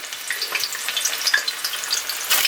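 Ripe plantains in half-cylinder cuts and green plantains in diamond cuts sizzle and crackle steadily in hot oil in a pan, with dense, close popping throughout and a louder burst near the end.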